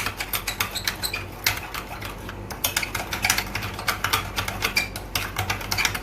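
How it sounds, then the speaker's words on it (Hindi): A spoon stirs ketchup and sugar together in a bowl for BBQ sauce, making steady rapid clicks and light scrapes close by, with no talking. "ताकि केचप और जो शुगर है वो अच्छे से कंबाइन हो जाए। आपने ऐसे मिक्स कर लेना है।"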